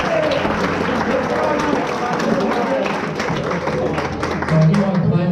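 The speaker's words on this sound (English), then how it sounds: "give him a round of applause" Applause for Errol at a soccer school celebration evening, with a busy room clapping in a continuous patter under a lot of crowd chatter and talking voices.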